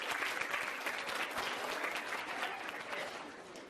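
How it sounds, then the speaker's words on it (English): A crowd at a high school fall sports banquet applauds the kitchen staff, bright, dense clapping that carries on evenly throughout at moderate distance. "So a nice round of applause for Jordan Mueller and the kitchen staff."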